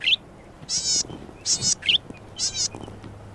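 Forest birds call in short, high chirping bursts, about five of them spaced through the moment, fairly faint over a quiet background with no voices.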